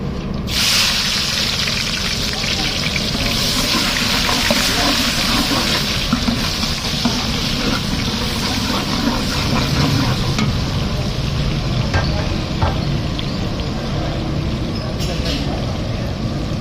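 Onions hit hot oil in a pan with a sharp initial hiss, then a continuous, even sizzle carries on for over fifteen seconds while someone speaks.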